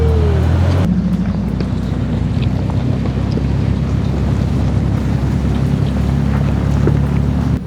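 Off-road vehicle crawling up a rock ledge on the Poison Spyder trail in Moab, Utah, its engine a steady loud low rumble throughout, with heavy wind buffeting the microphone.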